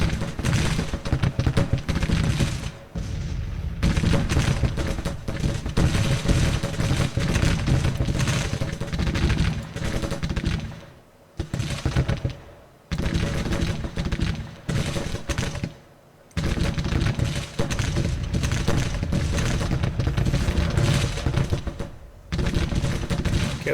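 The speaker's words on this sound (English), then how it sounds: "Let's keep firing on this 4th brigade." Dense, sustained musket and artillery fire from a Grand Tactician: Civil War battle, with a continuous crackle of volleys and deep booms, briefly dropping out several times before resuming at full loudness.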